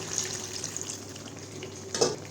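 Spiced meat frying hard in a pan, a steady sizzle with stirring scrapes, then a sharp hiss burst as water is poured in near the end; no talk.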